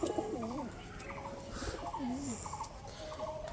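Pet pigeons in a home loft coo softly and repeatedly, a few rolling, warbling calls spaced through a faint, quiet background.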